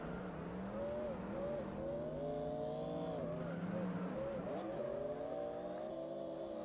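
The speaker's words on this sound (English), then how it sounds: "I heard the engines" Drift cars at a drift championship round, engines revving and whining steadily at a distance with occasional tire skids, a continuous faint roar throughout.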